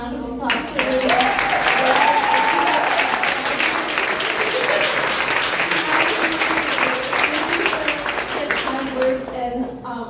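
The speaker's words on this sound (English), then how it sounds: "Sarah, one more round of applause." An audience applauds loudly and steadily throughout a live studio event, with a dense wash of claps held at full strength, and a voice speaks over the applause.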